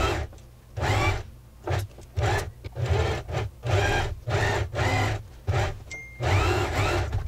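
A sewing machine stitches pleated fabric on a puff sleeve, its motor running in loud, regular bursts with brief pauses between the runs of stitching.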